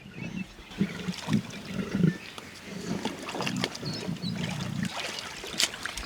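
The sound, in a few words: animals grumbling and squabbling while feeding on a buffalo carcass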